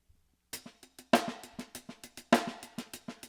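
A drum pattern played on the hands with a click track: sharp hi-hat ticks in a steady rhythm with two heavier snare hits, close and moderately quiet.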